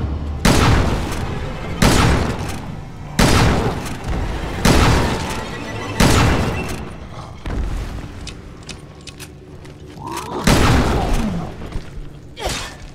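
Gunfire in Resident Evil Revelations 2: heavy, single shots roughly every one to one and a half seconds, each a loud, sharp burst with a short decaying tail, close and alone.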